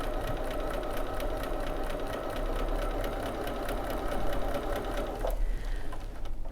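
Bernina sewing machine with a leather roller foot stitching down fabric piping, a steady close mechanical whir with rapid needle chatter that runs evenly, then stops abruptly near the end.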